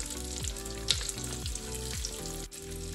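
Ivy gourd (tondli) sautéing in oil with coriander powder gives a steady close sizzle. Soft spoon scrapes come at roughly even intervals, and no one speaks.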